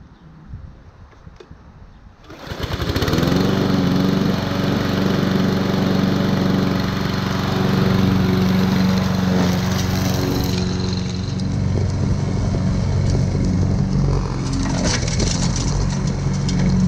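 Petrol lawn mower in a garden: after a few quiet seconds the engine starts and settles into a loud, steady running drone that stays close and continuous.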